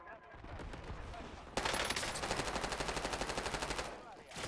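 Rapid automatic gunfire in the video game Warzone, first scattered and distant, then a loud sustained burst of fast, even shots close by that carries on for several seconds before tailing off.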